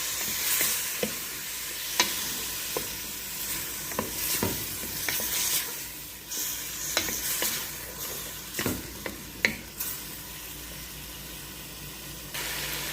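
Tomatoes are stirred in a hot frying pan with a steady close sizzle. A utensil scrapes and taps against the pan in irregular knocks throughout.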